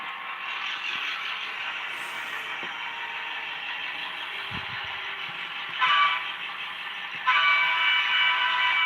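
Model train on a home layout pulling three cars for a wash rack, a steady close mechanical rumble and rattle of wheels on track with a few brief clicks, shifting louder twice near the end.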